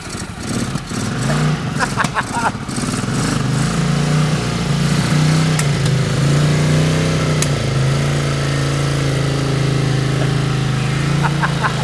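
A broken motorcycle bought secondhand fires up and keeps running, a loud, close, steady idle with a low throbbing drone, some sputtering early on and voices talking over it.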